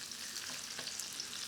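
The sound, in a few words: shallots sizzling while frying in a pan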